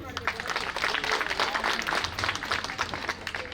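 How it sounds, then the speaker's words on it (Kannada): An audience at a millet and forgotten-dishes cooking competition claps in a dense burst of applause lasting a few seconds, fairly loud and close, with voices mixed in. "ಎಲ್ಲರೂ ನಿಮಗೆ ನೀವೇ ಜೋರಾಗಿ ಚಪ್ಪಾಳೆ ತಟ್ಟಿ"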